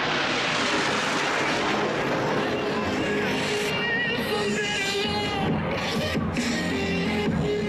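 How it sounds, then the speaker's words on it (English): Blue Angels jets approaching the flight line at the 2018 Fleet Week air show in San Francisco, a loud sustained roar of jet engines swelling and sweeping past, with a few sharp bangs near the end. "Blue Angels 5 and 6 are making their approach to the flight line."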